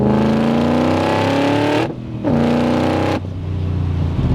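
A Shelby Cobra with a 2020 Shelby GT500 engine accelerates hard through the gears, loud and close, the engine note climbing, dropping sharply at each of two gear changes and pulling up again.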